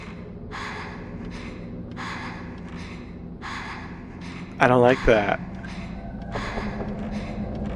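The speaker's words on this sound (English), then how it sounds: "is she panting too?" A female character in the horror game Fatal Frame pants and gasps in pain, with rhythmic breathy bursts repeating under a player talking, plus a louder sharp burst midway.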